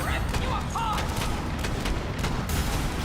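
Gunfire in Borderlands 3: rapid bursts of loud shots in an irregular volley, with a voice talking over the shooting.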